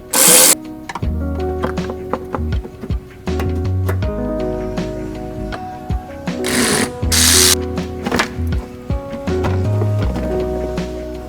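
A power tool drives fasteners while a car's fender well liner is removed, giving repeated short whirring bursts with pauses between them, a couple of sharp high hissing spurts and clicks of handling, close and loud.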